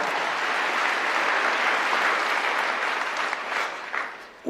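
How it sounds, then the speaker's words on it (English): A live audience at the AmFest 2025 event, during an interview with Greg Gutfeld, breaks into applause: a thick, sustained burst of clapping from a large crowd that thins out toward the end. "you can clap"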